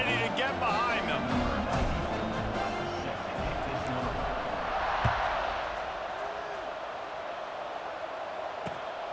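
Stadium crowd at an American football game as a kickoff is set up, a broad, steady roar filling the background beneath a commentator's voice.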